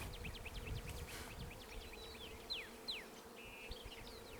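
Honey bees buzz softly around an open hive during installation of new colonies, a faint, steady insect drone with individual bees darting past close by.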